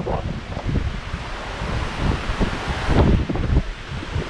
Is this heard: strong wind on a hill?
yes